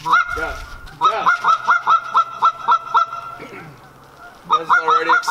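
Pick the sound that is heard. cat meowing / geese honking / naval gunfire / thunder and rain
geese honking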